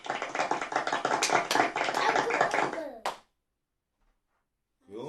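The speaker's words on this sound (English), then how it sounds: "we want to give a rousing round of applause to all of those" A small crowd gives a round of applause, dense clapping for about three seconds that stops abruptly, followed by silence and a brief voice at the end.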